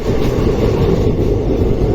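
Rajya Rani superfast express rolling along the rails between Mysuru and Bengaluru, heard from inside the coach: a loud, continuous low rumble with steady wheel and carriage noise and no speech.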